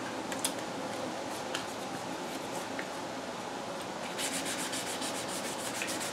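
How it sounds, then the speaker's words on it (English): Sandpaper on a cork block rubbing across guitar frets during fret levelling, giving a steady, close, raspy scrub that continues throughout, with faint ticks and a slightly brighter patch near the end. "as soon as this is not cutting, find a new piece, a new area of the sandpaper that is."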